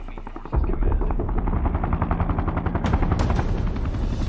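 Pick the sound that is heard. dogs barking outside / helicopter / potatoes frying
helicopter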